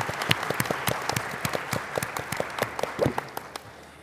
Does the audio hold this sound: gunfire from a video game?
no